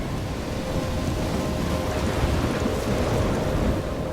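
Storm in the video game Life Is Strange, with thunder, rain and crashing waves: a dense, steady roar of wind-driven rain and surf, loud and unbroken, with a low rumbling swell.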